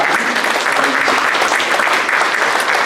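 Church congregation applauding in thanks during a worship service: a thick, loud, even roar of many hands clapping together, sustained without break and close up.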